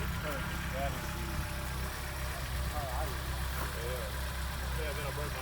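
A 1973 BMW 2002 Tii Touring engine idles steadily after a cold start, a low continuous rumble under people talking nearby.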